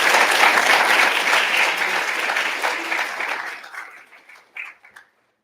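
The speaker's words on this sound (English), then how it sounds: "Please join me in a round of applause for Dr. Matchek's and Dr. Tokarov's leadership" Lecture audience gives a warm round of applause honoring two doctors' leadership, dense clapping that is loud at first, then gradually thins into scattered final claps before falling silent.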